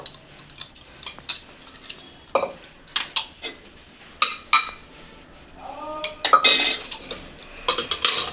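Pressure-cooked jackfruit tipped into a strainer bowl in a home kitchen, heard as scattered metallic clinks and knocks of steel utensils with brief wet splashes of water draining, close and intermittent, no talking.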